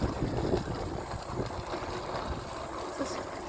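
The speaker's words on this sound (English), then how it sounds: "Oh wait, this is windy." Wind gusting outdoors over grass, a low rumbling buffet of wind noise against the microphone, steady and fairly faint throughout.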